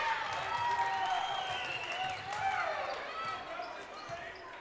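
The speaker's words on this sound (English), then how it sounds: "Badger fans are cheering away after that one." Badger basketball fans cheering in an arena, a sustained crowd roar with whoops and high shouts rising and falling, while a commentator talks over it.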